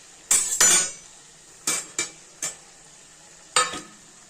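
Potatoes fry in a pan while a spatula scrapes through them in six short, separate strokes, each a brisk rasp over a faint sizzle.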